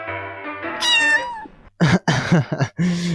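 A cat meows a few times in short, clear calls, preceded by a brief tonal sound; close and fairly loud.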